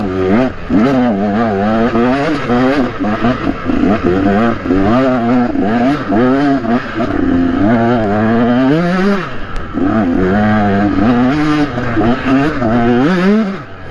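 Enduro motorcycle ploughing through deep sand, its engine revving and bogging in repeated loud surges and drops, close to the microphone with wind noise throughout.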